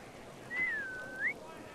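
A single clear whistle in the video game Assassin's Creed Syndicate, a long steady tone that dips slightly then ends with a short rising flick, over faint background noise.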